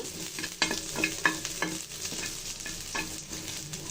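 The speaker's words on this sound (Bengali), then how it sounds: "পেঁয়াজ রসুনটা আমি বেশ তার কালার করে ভেজে নিব" Onion and garlic fry in a pan, browning for a taki fish and kalai greens dish, a soft continuous sizzle with repeated scrapes and knocks of a stirring spatula, close up and without talk.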